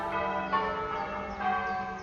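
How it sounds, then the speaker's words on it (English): Church bells ring in overlapping rounds, several strikes blending into a rich sustained peal with no voices. "Then, of course, we've got the bells."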